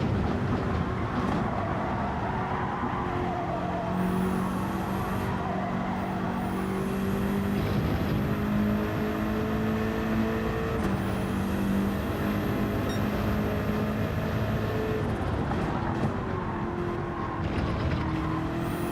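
A BMW race car in Gran Turismo 7 drones steadily and continuously throughout, its engine tone rising and falling through gear changes under a constant, dense mechanical roar with no voices.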